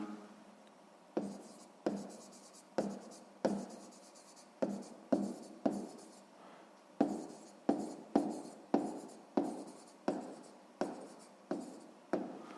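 Pen or chalk writing by hand while working a sixth-grade maths exercise, a steady series of sharp, close scratchy strokes with short pauses between, loud and alone without talk.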